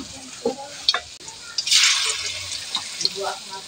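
Batter-coated flowers are lowered into hot oil in a wok and start to fry, giving a soft, building sizzle with a few clinks and stirring noises close by.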